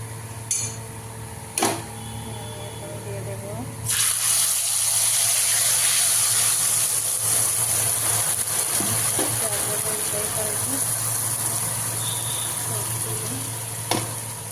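Ingredients dropped into hot oil, a few clunks and then a sudden, loud, steady frying sizzle that carries on to the end over a low background hum.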